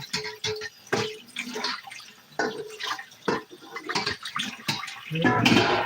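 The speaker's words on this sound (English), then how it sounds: "Let me rinse this out." Bowls are rinsed under a running kitchen tap, with close, uneven bursts of splashing water and clinking that swell to a steadier gush near the end.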